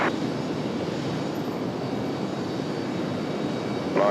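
An American Airlines jet departing RDU bound for Dallas Fort Worth: a steady broadband engine roar held at even loudness, rumbling from a distance with no voices over it.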